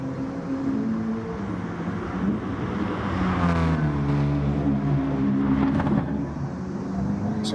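A BMW race car in a Gran Turismo online league race at Kyoto Driving Park screams steadily near and loud, engine pitch rising and falling through gear changes, with faint commentary voices underneath throughout.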